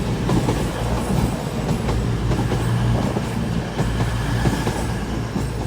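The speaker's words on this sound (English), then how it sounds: "got a cross-country service from Edinburgh going to Penzance, double voyage on this one" A CrossCountry Class 220 Voyager diesel train, running as a double unit from Edinburgh to Penzance, moves through Exeter St Davids station with a loud, steady rumble, heavy engine drone and rhythmic wheel clatter close by.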